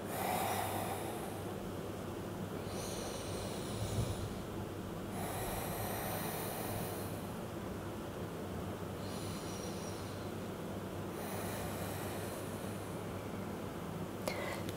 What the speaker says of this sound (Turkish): 3 derin nefes kal burada.